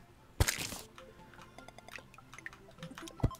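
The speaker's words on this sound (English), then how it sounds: "It's water, yeah." Sparse water drips in the Terraria video game, a few isolated plinks and ticks spread over a quiet underground ambience, one sharper drop near the start and another near the end.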